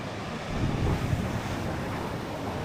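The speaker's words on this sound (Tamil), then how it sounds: "இங்க பாருங்க, ஆள கொந்தளிக்குது அப்படியே கடல்" Rough sea surges against a rocky coast with rock pools at sunset on a road trip in Australia, a steady roar of churning waves close by, buffeted by wind noise on the microphone, with no voices.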